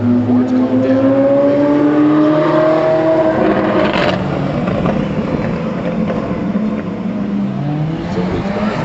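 Cars driving past at the Drive Fest 2023 car show, with engines revving and rising in pitch as one accelerates nearby, then a steady rumble of passing traffic, while people talk over it.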